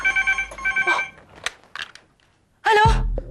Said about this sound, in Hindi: उसका फोन वापस आएगा